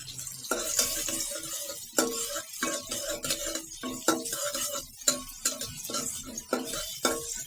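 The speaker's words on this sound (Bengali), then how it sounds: "পেঁয়াজটা আমার একটু ভাজি হোক, তারপর মশলাপাতি সব কিছু দিব" Onions sizzle in a pan at home while being fried for a chicken curry. A utensil scrapes and stirs them in quick, repeated strokes with sharp knocks against the pan, close and fairly quiet, with no talk.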